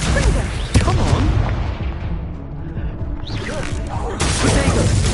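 Confringo blast from Hogwarts Legacy gameplay on PS5: a sharp explosive crack near the start, then rumbling booms and whooshing effects, a brief dip, and renewed loud battle noise.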